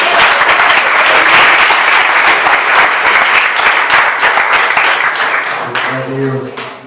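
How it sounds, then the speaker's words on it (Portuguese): A church congregation applauds loudly and steadily for several seconds, the clapping thinning out toward the end as a voice begins to speak. "Aplauda ao Senhor."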